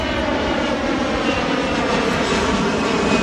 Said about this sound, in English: Where is the plane?